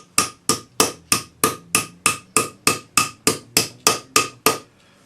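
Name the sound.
round forming hammer hammering a metal fold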